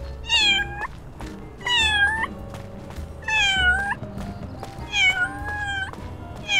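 Four bright kitten meows in quick succession from the video game Little Kitty Big City, close and loud over a faint game backdrop, no speech present.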